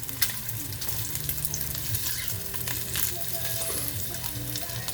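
Bacon fries in a pan for a lamb stew, rendering grease with a steady close sizzle and crackle, plus occasional scraping as it is pressed down, with no speech.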